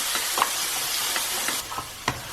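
Spices with turmeric and chili powder frying in a pan, a continuous bright sizzle punctuated by several short scraping stirs, close and fairly loud with no talking.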